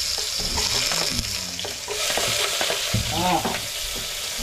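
Food sautés noisily in a hot pan, a loud continuous sizzle broken by repeated scraping and stirring strokes, close up with no talking.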